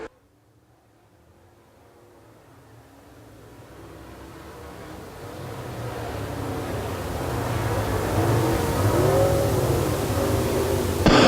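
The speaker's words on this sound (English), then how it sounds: "Bergdorf working the middle of the Speedway off turn number 4." UMP late model race cars roar around the dirt speedway at Quincy Raceways, their engines building from faint to loud as the pack approaches and passes close, with a race commentator talking over the noise.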